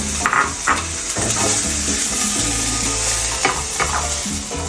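Teriyaki chicken stir-frying in a pan, a loud close sizzle with bursts of stirring and tossing, a few sharp utensil scrapes, and no voices.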